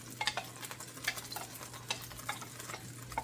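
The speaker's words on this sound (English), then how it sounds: "we're just going to get some browning on our rice and get our aromatics in there and flavor it" Rinsed rice toasting in a pan for pilaf, stirred steadily, with soft scraping and irregular light crackles across the few seconds, fairly quiet and close, no voices.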